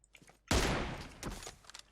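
Loud burst of automatic gunfire in PUBG Mobile on the Livik map, starting abruptly after a quiet moment and continuing as sustained rapid shots with a few fainter bursts following.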